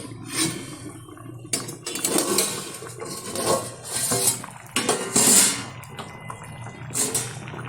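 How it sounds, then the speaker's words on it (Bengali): A metal lid is lifted off a pot of simmering broccoli and potato, giving several clinks and clanks of metal against metal, with rattling handling noises in between. "ঢাকনাটা তুলে দিচ্ছি"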